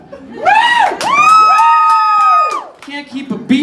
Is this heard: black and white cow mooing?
no